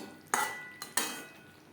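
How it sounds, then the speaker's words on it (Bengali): A spoon mixes cauliflower stalks and other vegetables with fried spices in a pan, giving two sharp scraping strokes over a soft sizzle, close and alone with no talk. "সবজির সাথে ভাজা মশলা বেশ ভালো করে মিক্সড করে দেব"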